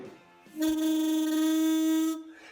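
Blowing through a small reed valve from a Rex Escape scooter with a Yamaha 3KJ engine gives a steady buzzing musical tone lasting about a second and a half, close and fairly loud, with a quiet start and end.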